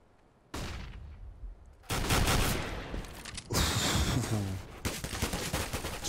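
Rapid gunfire bursts during a competitive Counter-Strike match, several loud dense volleys separated by brief pauses, crackling and mechanical, with no voices over them.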